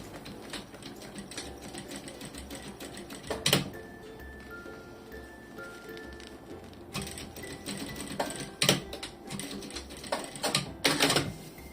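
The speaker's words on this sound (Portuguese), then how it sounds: "vou fazer agora aqui uma costura à beirinha, só para segurar então o meu exterior ao meu forro" Sewing machine stitching the exterior fabric to its lining, rapid mechanical clatter in several short runs with pauses between them, close and moderately loud, no talking.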